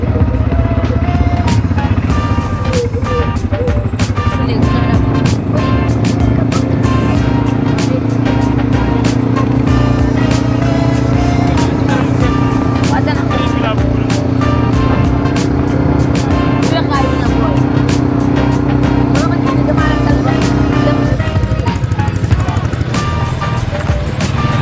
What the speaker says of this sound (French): Petit tour en quad.